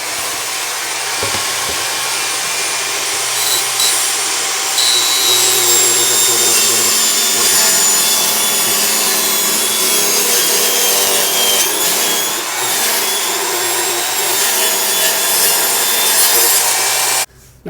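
A saw rips a board lengthwise into two 10-inch-wide pieces for a desk shelf. The cut is a loud, continuous, close whirring and grinding that runs almost unbroken for the whole stretch and then cuts out abruptly at the end.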